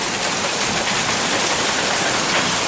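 Hailstones pelting the ground and a roof during an Eastern Kentucky hailstorm, a dense, steady broadband clatter filling the whole stretch, loud and close with no gaps.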